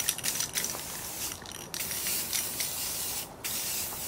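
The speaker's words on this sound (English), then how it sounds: "I'm using this Color Shot black matte paint, and we're going to spray the entire thing." Color Shot black matte spray paint hisses steadily from an aerosol can while a backyard hula hoop is coated, with a few short breaks in the spray, close and moderately loud.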